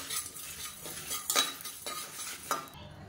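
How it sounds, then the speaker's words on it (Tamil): Spices and poppy seeds dry-roasting in a pan: soft, faint scraping and light clinks of a spatula against the metal, with a few sharper strokes and no talking. "இது எல்லாமே நல்லா வாசனை வர அளவுக்கு வறுத்துக்கலாம்."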